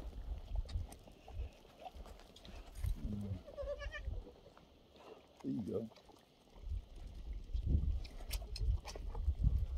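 Norwegian dwarf goats moving about near the listener, with soft shuffling, scattered hoof-like clatter and a couple of brief bleats, under a voice talking to them.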